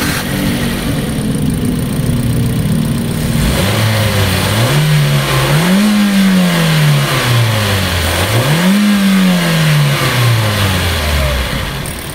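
A Daihatsu GranMax 1500cc dual VVT-i engine cranks and fires up, then revs loudly in several rising and falling sweeps, close and steady with no talk over it.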